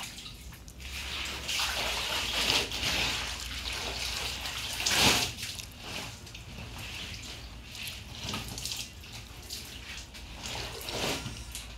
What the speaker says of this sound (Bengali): কাপড় দিয়ে এখন আমি ধুবো, ভিজিয়ে রাখছিলাম।